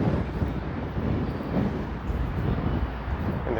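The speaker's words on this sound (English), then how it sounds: "it's a fairly windy day, I would say" Wind blows in a steady, low rumbling rush on the University of Toronto St George campus in downtown Toronto, buffeting the microphone throughout.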